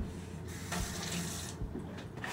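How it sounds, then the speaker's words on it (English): Water runs steadily from a tap for a craft job with paper clay, a continuous close hiss with brief pauses and changes in flow, no talking over it. "You use a little water too."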